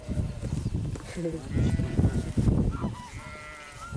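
Sheep bleating and farm animals calling close by, overlapping with people talking in the background.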